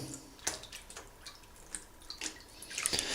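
Neck Buddy cooling collar by BodyCool being dipped into water in a pot or bowl, with faint splashes, drips and small gurgles in short bursts, quiet and close with no talk.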